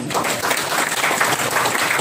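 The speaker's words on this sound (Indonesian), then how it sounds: "Boleh minta tepuk tangan dulu" Church congregation applauding together, a dense, steady wash of clapping that holds evenly loud throughout.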